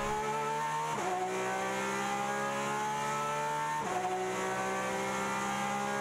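A Porsche 911 RSR race car laps Daytona through the last infield corner toward the oval. Its engine gives a loud, sustained high-revving drone from on board, with two quick upshifts breaking the steady climb.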